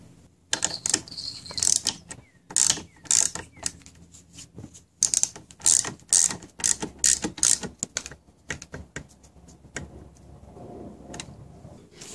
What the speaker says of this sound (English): before we tighten up the bolt